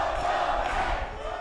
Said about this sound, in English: The crowd is not quiet. It's almost deafening here.